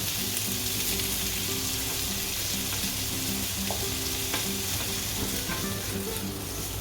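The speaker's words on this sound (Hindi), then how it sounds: "इसको सिम आंच पे थोड़ी देर भूनेंगे।" Dum aloo masala fries on low heat in a pan with a steady, close sizzle and a few soft stirring scrapes, no voices over it.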